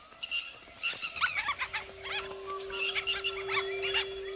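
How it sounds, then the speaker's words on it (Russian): Ground-nesting lapwings in India calling in alarm after red wolves approached, a series of sharp, repeated cries from several birds at mid distance, overlapping with a steady tonal hum from other wildlife. "Крики чибисов встревожили других животных и птиц."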